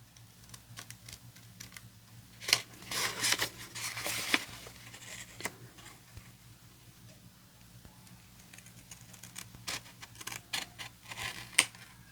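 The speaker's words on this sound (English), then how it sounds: "I should have used my larger scissors. I'd get a smoother cut" Small scissors snip through material in a few quick, crisp clusters of clicks. The snips come close but quiet, with long stretches of near-silence between them.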